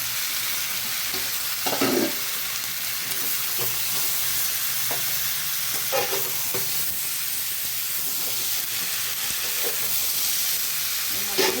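Eggplant and tomatoes stir-fried in a pan give a loud, continuous sizzle up close, broken by intermittent scraping and stirring strokes of a utensil; nobody speaks.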